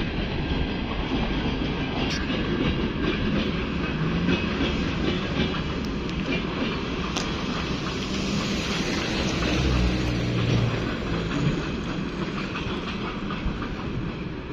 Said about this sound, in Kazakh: Міне біздегі пойыз.